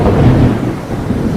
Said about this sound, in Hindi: There was loud thunder and lightning.